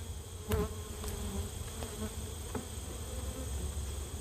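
Bees hum steadily around a hive, a continuous close buzzing drone with a few louder individual bees passing by near the start.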